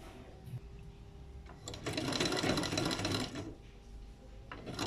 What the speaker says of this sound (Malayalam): മടക്കിയിട്ട് തുന്നണം.